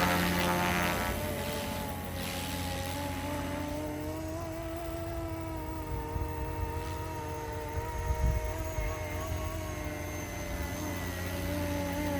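A RotorScale UH-1 Huey RC helicopter flies during its maiden flight in ATTI mode, with a steady buzzing rotor and motor drone and shifting pitch as it moves nearby outdoors, no voices.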